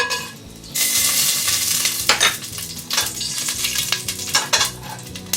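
Cumin seeds, cinnamon and cloves sizzle loudly in a generous amount of hot oil, a dense steady hiss with sharp clinks and scrapes of a utensil against the pan throughout.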